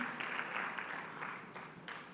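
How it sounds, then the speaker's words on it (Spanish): A church congregation breaks into applause during a worship service, a soft, continuous wash of clapping that stays fairly quiet and even throughout. "Denle un fuerte aplauso al Señor"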